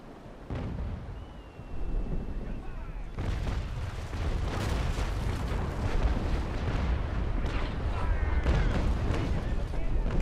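Naval cannon fire in the sailing warship game Naval Action, heard as a continuous rolling barrage of deep booms and rumbling that builds in density and stays loud for the full stretch, with no talking.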